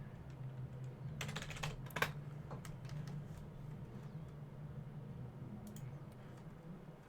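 Keystrokes on a computer keyboard as a Linux package-install command is typed, a burst of quick taps early on with a few scattered presses later, close and fairly faint over a steady low hum.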